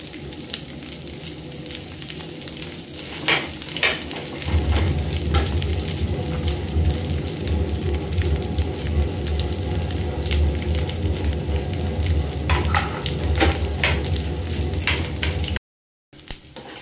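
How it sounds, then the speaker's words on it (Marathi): Edible gum (dink) fries in hot ghee with a dense, continuous sizzle. It starts lighter with a few crackles, then swells into a loud, steady frying hiss for most of the clip before a brief cut. "तुपामध्ये मी तळून घेतलेला आहे डिंक."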